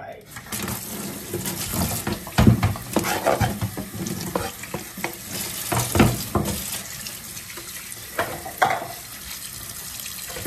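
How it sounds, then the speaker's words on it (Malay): Fish frying in a pan in a home kitchen for a crispy result, a steady close sizzle with irregular clatters and stirring knocks over it, no talking. "So kita goreng ikan"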